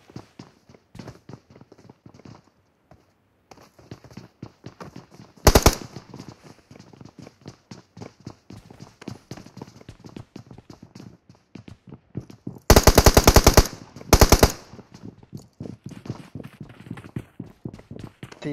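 Gunfire in PUBG Mobile: rapid automatic bursts, one short near the middle and a longer loud volley later, amid a steady patter of footsteps and game sounds.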